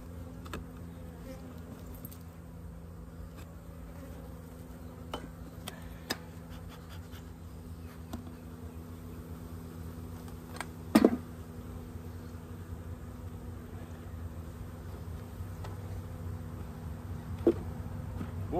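Honeybees buzzing in an open beehive, a steady low droning hum throughout, with faint clicks and light handling knocks near the hive frames.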